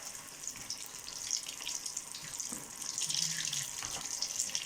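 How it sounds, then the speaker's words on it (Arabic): Maakouda dough sizzles and crackles in hot oil, a steady bright hiss with bubbling bursts, fairly quiet and close. "انا دابا هنايا بديت القليان"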